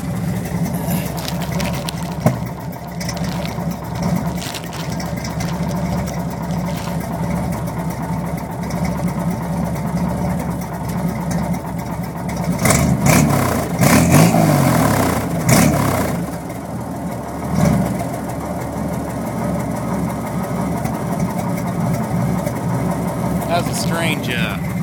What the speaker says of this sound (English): Give you a note of that exhaust.